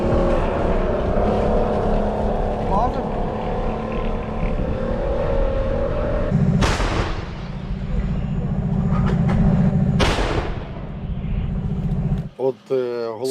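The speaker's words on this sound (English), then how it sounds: "The French reconnaissance vehicle with a 105mm gun, AMX-10, on the move." An AMX-10 French wheeled reconnaissance armoured vehicle with a 105mm gun on the move gives a loud, steady engine and drivetrain rumble, punctuated by two sharp, heavy bursts partway through and a rougher, fluttering noise near the end.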